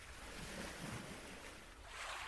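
Ocean waves wash in a steady, unbroken rush of surf, loud and close, with no voices.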